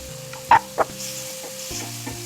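Onions and tomatoes sauté in a pan with a steady low sizzle, interrupted by two sharp knocks of a spoon against the pan and soft stirring scrapes, close up with no voices.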